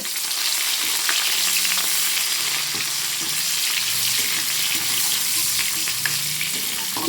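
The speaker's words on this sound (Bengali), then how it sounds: "পেঁয়াজ দিলাম পেঁয়াজ দিয়ে একটু ভালো করে নেড়ে নেব" Sliced onions with kalo jeera (nigella seeds) fry in hot oil for a rohu fish curry, giving a loud, continuous close-up sizzle with repeated scraping stirs of a spatula through the pan.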